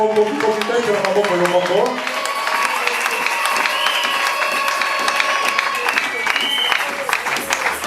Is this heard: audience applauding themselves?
yes